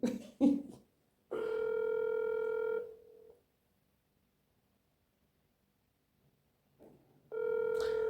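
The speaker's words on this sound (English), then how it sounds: "Answer up the phone now." A telephone line sounds in two steady electronic tones, one long and one starting at the end, separated by a near-silent gap after a few short clicks at the start.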